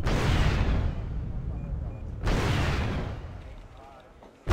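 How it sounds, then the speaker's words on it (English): Havoc attack helicopters fire ATGMs in the war strategy game Wargame: European Escalation: two heavy launch blasts a couple of seconds apart, each rolling off into a long rumble, with a sharp pop at the end. "my Havocs are literally just firing all the ATGMs they can at all of targets they can see."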